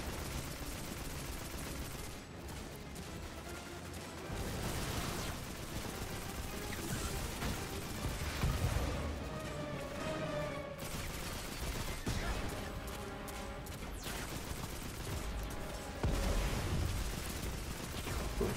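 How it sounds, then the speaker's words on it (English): Sniper rifle gunfire in a video game, with repeated sharp shots and bursts of firing scattered across a dense, noisy battle soundscape, at moderate level with mechanical clicks between volleys. "he just sniped away my cover"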